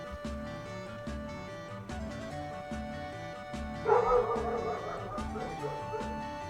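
Dog barks from the PSP version of Final Fantasy I ring out over steady game music, with a louder burst of yapping partway through and speech faintly underneath.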